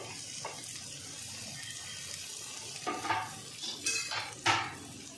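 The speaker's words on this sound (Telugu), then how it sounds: "ఇవన్నీ వేసి బాగా కలుపుదాం." Vegetables such as spring onions, beans, cabbage, green chillies and capsicum are tossed in a pan for chicken fried rice, with a few scraping and clattering stirs that grow louder toward the end over a steady background hiss.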